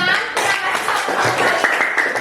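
Classroom students at an Indonesian junior high school applauding a group after its presentation, a short burst of dense, close, continuous hand clapping from many people.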